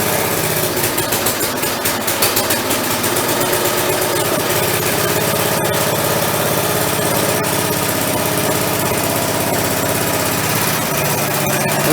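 A Craftsman tiller's small gasoline engine runs loud and steady nearby, with a rough, throbbing idle that keeps going throughout.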